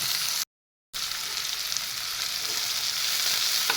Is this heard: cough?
no